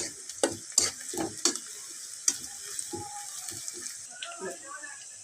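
Sliced onions frying to a crisp golden brown sizzle steadily in a pan, with a few sharp spoon knocks and scrapes early on and a softer hiss continuing afterward.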